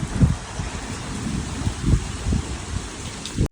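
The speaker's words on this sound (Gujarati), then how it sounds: "પેલી બાજુ તો વરસાદ આવતો છે એવું સંભળાતું છે" Rain and gusting wind in the distance before a storm at a rural home, a steady rushing wash with low rumbling swells that rise and fall, no one speaking.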